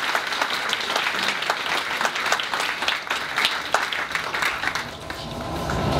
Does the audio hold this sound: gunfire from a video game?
no